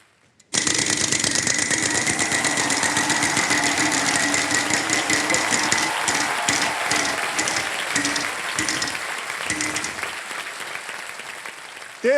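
A game show prize wheel spins on a studio stage, a steady loud rush of rapid clicking ticks that slows slightly toward the end, with a crowd cheering over it.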